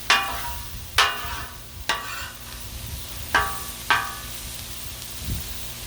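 Bacon and vegetables sizzling on a Blackstone griddle under a steady hiss, punctuated by several sharp metallic scrapes and taps of a spatula at irregular intervals, close up with no talking.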